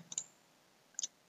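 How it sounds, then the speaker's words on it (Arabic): A computer mouse gives two quick clicks, a pause, then another close double click, crisp and quiet with no voices. "نضغط ساين اب"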